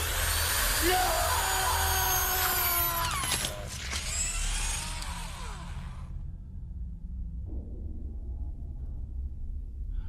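A high, whining power drill runs for several seconds with grinding, squealing bursts, then drops out, leaving a low hum and faint rumble behind.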